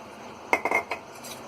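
Spoon mixing a mutton chop marinade with cornflour and oil in a bowl, a few close metallic clinks and scrapes in a quick cluster over quiet background.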